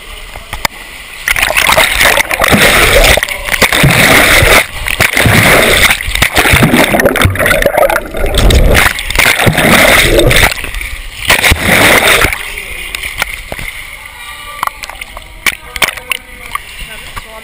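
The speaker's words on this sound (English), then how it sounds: "I think I'm gonna go for a swim" Loud splashing and sloshing of water from someone swimming, busy and continuous for about twelve seconds before easing into lighter scattered splashes.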